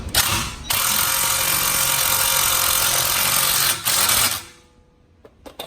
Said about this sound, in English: then take your E18 socket to tighten it down completely